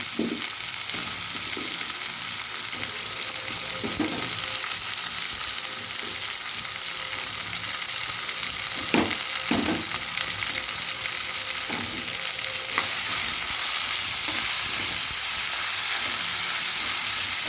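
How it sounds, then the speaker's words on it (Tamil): Okra sautéing in a pan for a tamarind curry with tomato and onion, giving a steady close frying hiss with occasional soft stirring scrapes, constant and moderately loud throughout. "இப்போ இந்த அளவு வெண்டைக்காய் நல்லா வதங்கிருச்சு"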